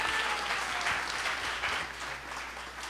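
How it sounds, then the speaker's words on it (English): A crowd at a Srila Prabhupada festival gathering gives a round of applause, many hands clapping steadily at moderate level, alone without talk, tapering slightly toward the end. "Let's hear a nice round of applause."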